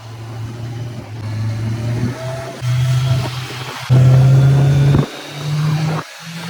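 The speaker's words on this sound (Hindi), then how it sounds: "मैंने गियर डाउन किया और एक क्षण के अंदर मैंने वापस थ्रॉटल की डोर खींच डाली" A Kawasaki Z900 motorcycle in heavy traffic on a Mussoorie valley road revs hard in repeated bursts, with abrupt drops in engine note at each gear shift and then fresh rising pulls, loud and close with no talk.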